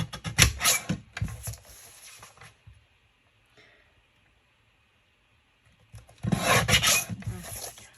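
Paper being trimmed for a scrapbook page, heard as close, rasping sliding strokes in two bursts with a quiet gap between them and no talking.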